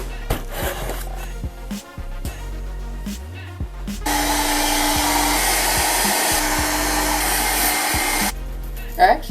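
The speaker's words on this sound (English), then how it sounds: "I'm gonna dry my hair" A hair dryer blows hair dry with a loud, steady whooshing roar for about four seconds, framed by quieter handling, rustling and bumping before and after.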